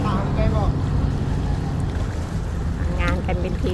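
A tugboat tows a cargo boat through a river junction with swirling currents, its engine a constant low rumble over water and wind, while a voice talks over it.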